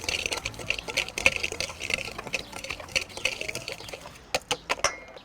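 Sugar and flour being mixed in a bowl for a mushroom-shaped pastry, a series of close scraping and tapping stirs, irregular and moderately loud, with sharper clicks near the end.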